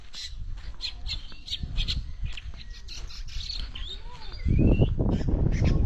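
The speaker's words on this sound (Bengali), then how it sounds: "অনেক পাখি ডাকছে।" On a cold winter morning at a roadside village house in Bangladesh, a busy chorus of birds squawks and chirps close by, with repeated sharp calls and a louder rush of sound toward the end.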